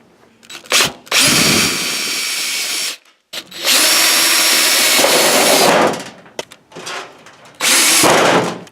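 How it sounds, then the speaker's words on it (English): Power drill driving self-tapping screws into the metal housing of a Fulham HotSpot1 LED emergency lighting fixture, three loud sustained whirring bursts of a few seconds each, close up, separated by short pauses and clicks. "you can take the self-tapping screws included in your kit to secure the emergency driver to the housing"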